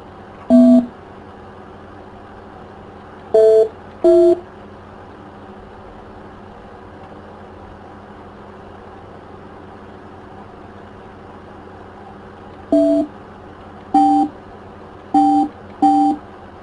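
Telephone beeps on a call to the Church of the Martyr Mar Girgis in Asyut: seven short, clear electronic tones, three early and four in a quick cluster near the end, over a low steady hum.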